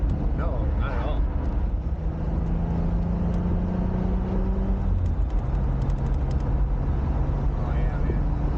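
A 1988 Pontiac Fiero's mid-mounted engine drones steadily while cruising at highway speed, a low constant hum with road and wind noise inside the cabin, alongside people talking.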